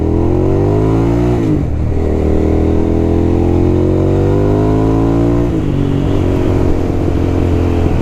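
A Hyosung 650cc twin-cylinder motorcycle accelerates hard and close, its engine note climbing through one gear, dipping at a shift, then rising again loudly and continuously.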